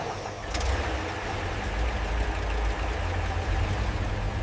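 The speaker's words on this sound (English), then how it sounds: "You can hear that engine." The engine of a restored 1966 Land Rover idles after its first start, a steady low rumble holding even and smooth at moderate loudness throughout.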